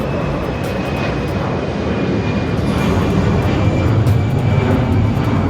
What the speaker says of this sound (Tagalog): Asan yung eroplano?